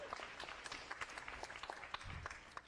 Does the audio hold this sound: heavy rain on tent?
no